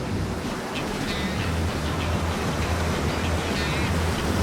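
Ocean surf rolls and washes continuously against rocks where seals swim, a loud, steady roar of waves with wind buffeting the microphone throughout.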